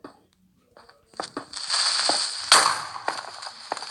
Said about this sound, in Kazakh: Ай, біз жарылып кетті.